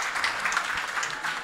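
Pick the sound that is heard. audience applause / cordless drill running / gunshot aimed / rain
audience applause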